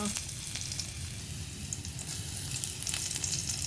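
Garlic dropped into hot oil fries with a dense, steady sizzle and crackle that stays loud and close for the whole stretch, with faint stirring underneath.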